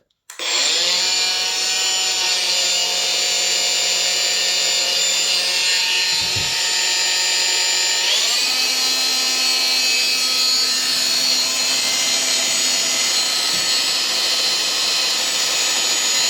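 A Makita DGA513Z cordless brushless variable-speed angle grinder spins up and runs loudly and steadily with a high whine, its pitch shifting partway through as the speed setting changes, with no talking.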